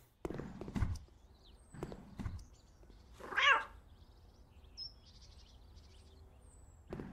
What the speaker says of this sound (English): Gotta love the cat.